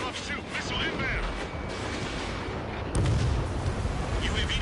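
A UAV destroyed in an Ace Combat 7 dogfight, a dense rumbling roar of combat noise with a sharp booming blast partway through, loud and close.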